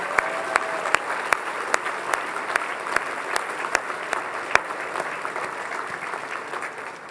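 A large audience at a national export awards gala applauds the finalists: steady, dense clapping with sharp individual claps standing out, sustained and fairly close throughout.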